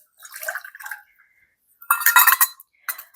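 Water poured into a saucepan that already holds white sugar, heard as two short bursts of splashing and clinking against the pan, a longer one and a brief final splash, close and fairly loud with no talk.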